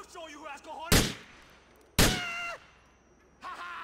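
Two sharp, loud 9mm pistol shots in the GTA IV video game, about a second apart, each a broadband crack with a short ringing tail, with faint game voices and sounds between them.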